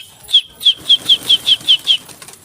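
Pigeons flapping their wings in flight during a flying contest, a run of about eight sharp, evenly spaced wing claps close by, with no voices.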